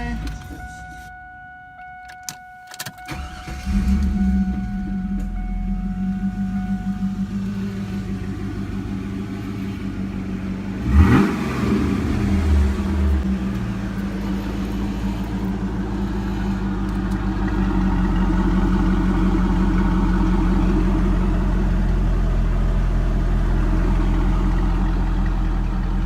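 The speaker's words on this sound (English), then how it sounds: "Alright, here's the startup and the TA." Car engine with a new higher-flow exhaust starts up and settles into a steady, fairly loud idle rumble, with a brief sharper rev partway through and the drone continuing alone afterward.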